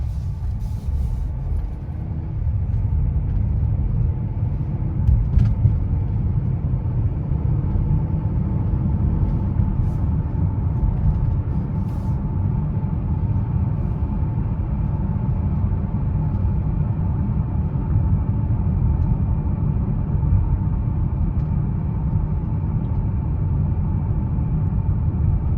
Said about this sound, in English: Here we are driving the 2021 GLB 250.